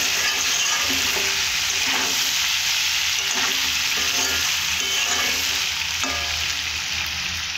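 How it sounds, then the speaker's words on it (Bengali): Vegetarian ghugni is sautéed in a pan with a loud, continuous sizzle and frying hiss, broken by repeated scrapes and stirs of a spatula, close and steady throughout. "এইভাবে ভালো করে কষে নেবে।"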